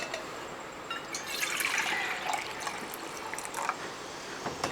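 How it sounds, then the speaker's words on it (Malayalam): Water is poured into a pan while upma is being cooked, giving a soft, faint trickle and splash that runs for a few seconds on its own. "ഇതിനകത്തോട്ട് ഒന്ന് ഒന്നേകാല് കപ്പ് വെള്ളം കൂടെ ഒഴിക്കുകയാണ്"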